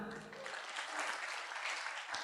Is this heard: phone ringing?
no